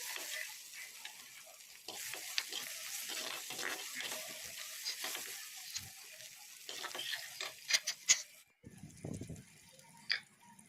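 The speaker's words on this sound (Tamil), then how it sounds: "இப்போ தக்காளியையும் சேர்த்துக்கிறேன் ஸோ இது ரெண்டுத்தையும் சேர்த்து நல்லா வதக்கிக்கலாம்" Tomatoes and onions sauté in a pan for a mackerel fish curry, with a soft, continuous sizzle and occasional scraping stirs, ending in a few louder clinks and stirring sounds.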